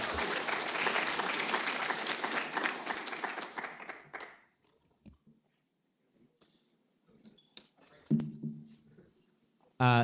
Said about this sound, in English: another round of applause for these guys